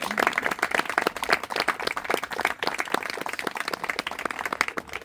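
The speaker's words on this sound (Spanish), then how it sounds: "Yo creo que se merece un aplauso al Señor, ¿no?" A church congregation applauds together, dense overlapping hand claps forming a steady, moderately loud wash of clapping that carries through the whole stretch without pause.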